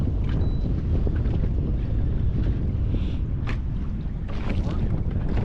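Strong wind buffets the microphone on a boat out on a lake, a loud continuous low rumble with gusty swells and faint water sounds, no speech.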